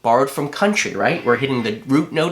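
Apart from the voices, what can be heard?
No distinct noise like a dog, phone or traffic.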